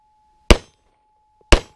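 Two sharp, loud gunshots strike a steel target during a defensive shooting drill, spaced about a second apart, each with a brief ringing decay and no talking between them.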